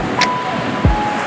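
Ocean waves at a beach wash in as a steady, close hiss of surf with some wind noise, a brief thump partway through.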